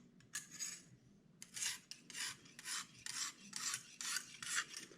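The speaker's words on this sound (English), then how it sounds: "So using this sharpening system really helps to hold the correct angle for me." A Grohmann knife is drawn across a Lansky sharpening system's stone in quick repeated rasping strokes, about eight scrapes spaced evenly with brief pauses, close and fairly quiet with no talk.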